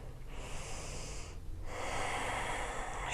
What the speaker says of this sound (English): And breathe here.